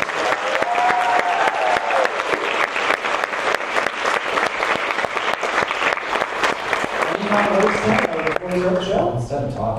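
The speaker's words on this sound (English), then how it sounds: "Big round of applause for Ken." Audience at a D23 Country Bear Jamboree event applauds loudly and steadily for nearly ten seconds, dense clapping with some crowd murmur and voices emerging near the end as it tapers.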